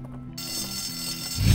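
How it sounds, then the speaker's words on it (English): Fire alarm ringing through a school in the game Bully: Scholarship Edition, a steady loud high-pitched electronic tone that starts abruptly and carries on continuously, with a low thump rising at the end. "Pull the fire alarm."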